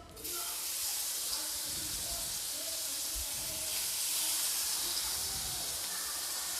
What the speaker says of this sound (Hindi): अब मैं इन भिंडियों को भी डालकर फ्राई कर लूँगी।